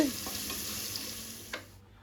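Small onions frying in a pan for a chickpea curry, a steady soft sizzle with light stirring clicks, fading out near the end.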